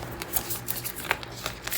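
Tarot cards dropping and being shuffled, a run of quick papery riffles and soft slaps at close range, crisp and irregular, with no voice over them.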